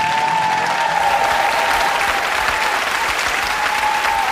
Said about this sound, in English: please do give them a very big round of applause as they move to tonight's first location